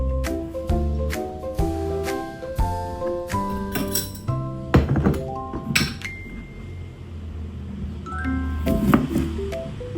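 Ingredients for fermented honey going into a glass jar make repeated bright clinks and taps of glass, some sharp and ringing, with soft shuffling handling noises in between, close by and fairly quiet.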